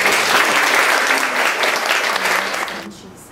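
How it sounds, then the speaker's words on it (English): Audience applause fills a graduation ceremony, dense and loud clapping throughout before tapering off at the end. "I think we need to give you a real big applause"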